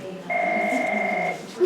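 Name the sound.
telephone ringing in classroom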